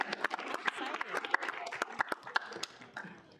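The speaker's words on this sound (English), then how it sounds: "Round of applause." A student senate meeting room breaks into a round of applause, close, uneven clapping from a modest crowd with sharp individual claps standing out.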